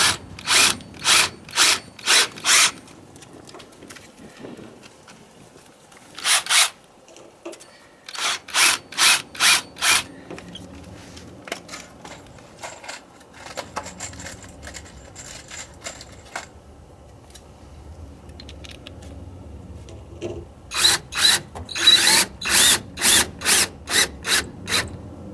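Power drill widening screw holes in a metal greenhouse panel, heard as several clusters of short rhythmic bursts with quieter working noise between them, no talk.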